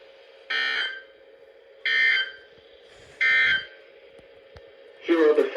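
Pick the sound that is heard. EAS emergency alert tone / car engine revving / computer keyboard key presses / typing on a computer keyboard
EAS emergency alert tone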